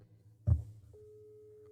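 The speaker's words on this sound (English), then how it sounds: "The phone is buzzing already." A telephone in a radio call-in studio gives a dull knock, then a steady, faint electronic buzzing tone that holds on alone.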